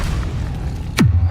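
A Confringo blast spell from Hogwarts Legacy bursts near the end, a sudden loud boom with a falling whoosh that settles into a low sustained rumble after quieter game ambience.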